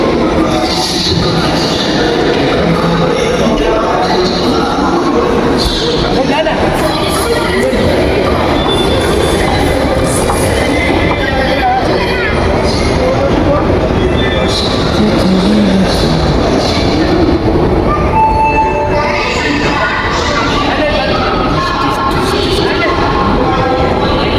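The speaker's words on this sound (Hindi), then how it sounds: "पूरा रेलवे स्टेशन" Train and station bustle at Cuttack railway station, with rolling rail noise, clattering and occasional squeals under a steady wash of crowd sound and voices throughout.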